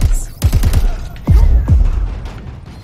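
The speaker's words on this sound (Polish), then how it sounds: "Ktoś tu strzela." Gunfire in the video game Crackdown 3: a quick burst of four or five sharp shots, then two more louder reports a moment apart, over a steady background rumble.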